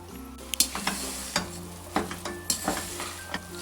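Sugar and butter melt together in a pan while almonds toast. There is a steady sizzle and frying hiss, broken by frequent crisp stirring scrapes and small pops, close and moderately loud.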